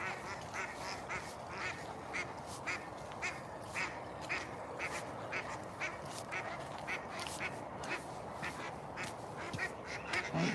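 A flock of ducks quacks steadily and continuously beside a small stream near a bridge, many overlapping calls at moderate distance, fairly faint and with no talk.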